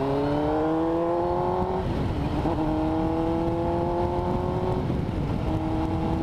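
A motorcycle engine fitted with a GP shift conversion drones steadily while riding, its pitch climbing, dropping at a gear change, then climbing again, loud and close throughout.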